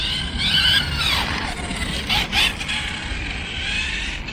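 A HOBAO 10SC RC car on a 3S lipo runs close by, giving a constant loud mechanical whir and gear rattle with small surges in intensity.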